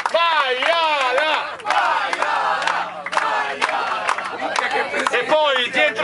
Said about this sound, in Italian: E poi parte il coro